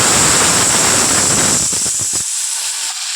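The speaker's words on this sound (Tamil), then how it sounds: "நல்லா ஊறிடுச்சுங்க எண்ணெயில் போட்டுக்கலாம்" Marinated chicken leg pieces drop into hot oil with a loud, close, dense hiss and sizzle that fades sharply after about two seconds, leaving only a faint residual hiss.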